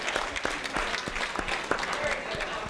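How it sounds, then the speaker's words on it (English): An audience at a talk on teaching social justice breaks into applause, a fairly loud stretch of quick, scattered claps that runs steadily for a few seconds with voices mixed in. "Give a round of applause."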